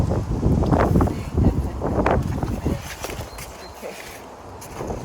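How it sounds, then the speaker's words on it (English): Winter wind gusts loudly outdoors, buffeting the microphone with a rough, rumbling roar that rises and falls in waves. Scattered rustles and knocks sound nearby, with no clear talk. "See how windy winter is coming."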